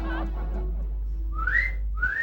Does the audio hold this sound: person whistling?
yes